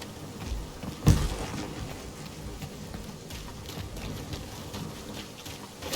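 Steady rainfall in the Guardians of the Galaxy video game, a constant soft hiss throughout with one sharp thud-like impact early on.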